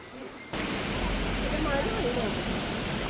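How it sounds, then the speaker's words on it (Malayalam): A small stream in Munnar, Kerala gives a steady rushing water hiss that starts abruptly and continues evenly, close and fairly loud, with no clear talk over it. "ഇവിടെ ചെറിയൊരു അരുവിയുണ്ട്."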